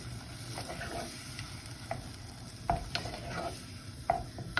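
Tomato sauce for chicken parmigiana simmers and sizzles in a pan over medium-low heat while a spoon stirs it, with soft scrapes and a few sharp clinks against the pan, heard close and alone.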